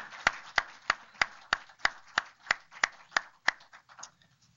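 About a dozen slow, evenly spaced claps from a small audience after a talk on case management and safety in Parkinson's disease, each clap sharp and distinct with a quiet room between them, fading out at the end.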